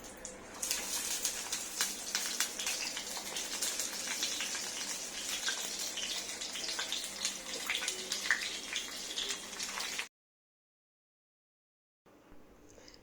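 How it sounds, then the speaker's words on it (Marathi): Stuffed brinjal frying in hot oil in a kadhai gives a steady, dense crackling sizzle that runs for about ten seconds, cuts to silence, then resumes faintly. "गरम कढाईमध्ये पाच चमचे तेल घालून सर्व भरलेली वांगी त्यात घालून घ्यायची आहेत"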